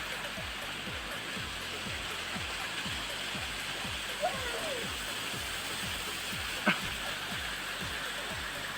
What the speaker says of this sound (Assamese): একেৰাহে দিন ৰাত পানী পৰিয়ে থাকে